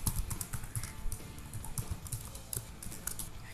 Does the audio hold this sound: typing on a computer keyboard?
yes